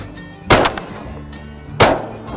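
Two sharp shotgun blasts, about a second apart, boom across a Sandhills marsh as hunters fire at a flying duck, each shot ringing briefly before fading.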